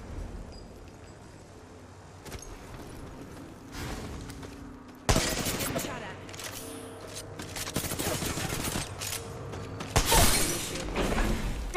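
Gunfire in the shooter game Apex Legends: bursts of rapid automatic fire and sharp single shots crackle over a murky background, building in density with loud peaks near the end.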